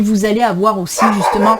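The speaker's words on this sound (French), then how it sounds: "c'est mon chien qui aboie" A pet dog barks and yips several times in quick succession close to the microphone, woven in with someone speaking French over it.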